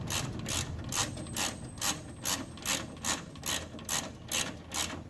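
A ratchet wrench with a 10 mm deep socket clicks in steady, rapid bursts of pawl ticks, close and fairly loud, repeating about twice per second with no talking.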